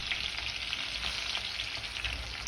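Crushed ginger and garlic sautéing in hot oil with mustard seeds, cumin, curry leaves and green chillies: a constant close sizzle with soft crackles and faint stirring scrapes, no talk.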